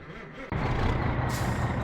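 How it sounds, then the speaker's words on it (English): In the video game My Summer Car, a truck engine starts abruptly after a brief low whir, then runs as a loud, steady rumbling idle, with a hissing burst like an air release near the end. "So we need to turn the truck on."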